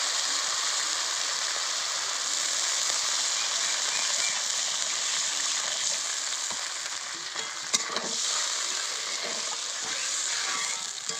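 Water poured into spice paste fried in oil with Kashmiri chilli powder gives a loud, continuous hiss and sizzle that stays dense and even throughout, with a faint clink partway through.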